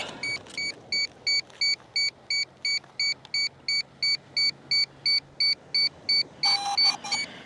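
A steady run of short, high-pitched electronic beeps from a DJI Lito X1 drone controller, about two per second, ending in a brief burst of noisier chirps.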